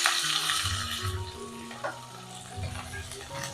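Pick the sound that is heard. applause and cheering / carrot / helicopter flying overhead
carrot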